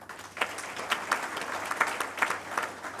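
Conference audience applauds at an ICT infrastructure master plan event in Kenya, steady dense clapping from a large hall crowd, filling the room without speech.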